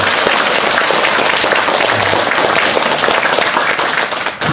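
Loud, dense clapping from a Buddhist temple congregation during a dharma talk, a continuous roar of many hands at close range that stays strong and then cuts off abruptly.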